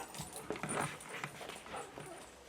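A dog whining and whimpering for a toy, thin high whines and soft yelps close by, with faint voices in the background.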